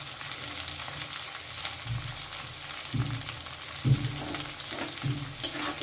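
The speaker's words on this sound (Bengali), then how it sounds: "প্রায় 1 মিনিট ধরে আমি আলুটাকে একটু ভাজা ভাজা মতন করে নিয়েছি।" Potatoes sizzle in a hot pan for a Bengali ridge gourd and poppy seed dish, a soft steady crackle of frying broken by a few scraping stirs of a spatula, close and fairly quiet with no talking.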